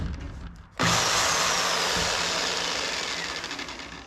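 A power tool suddenly starts up with a loud, harsh whirring roar that runs continuously, slowly fading slightly over a few seconds.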